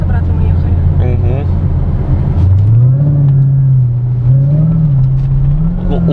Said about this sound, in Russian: Скорее потому, что это все-таки американский мотор, который рокочет.